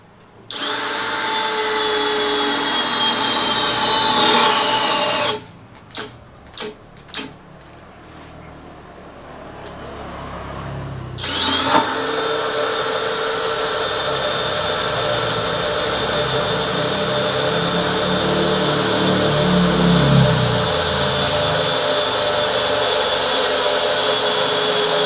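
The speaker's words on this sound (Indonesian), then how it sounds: "Langsung kita bor aja dengan mata bor" A loud Tekiro power drill with an 8 mm bit whines steadily, pauses for a few short bursts, then resumes boring through 1.2 mm hollow steel at low speed with a continuous grinding drone.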